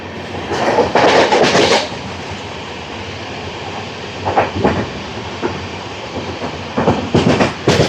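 A Howrah–New Delhi Duronto Express passenger train runs by, heard as a steady rolling rumble with loud bursts of wheel clatter near the start and again toward the end, and no voices.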